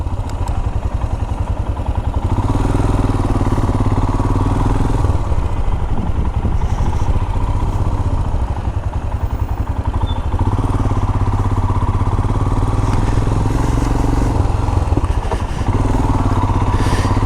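Royal Enfield Himalayan 411 motorcycle engine runs steadily for the whole stretch, a loud, close, low thumping chug without speech.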